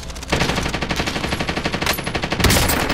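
Rapid automatic gunfire in Call of Duty: Warzone, a loud close burst of evenly spaced shots rattling for over two seconds, ending in a heavier blast.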